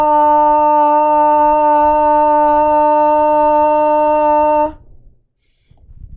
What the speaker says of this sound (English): you're going to do a loud ah for 5 seconds